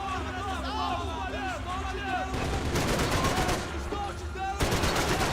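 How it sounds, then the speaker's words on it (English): Bursts of rapid gunfire from the Max Payne 3 video game, fairly loud and steady, mixed with in-game voices and background chatter throughout. "What the fuck are you shooting, Max Payne?"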